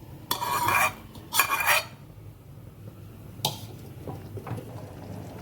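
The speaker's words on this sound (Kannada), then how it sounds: "10 ನಿಮಿಷ ಬೇಯಿಸಿಟ್ಕೊಂಡಿರೋ ಅವರೆಕಾಳು ಹಾಕ್ತಾಯಿದ್ದೀನಿ." Cooked field beans (avarekalu) go into a boiling coconut curry with a few sharp metallic scrapes and clinks of a spoon against the pot, followed by quieter stirring and bubbling.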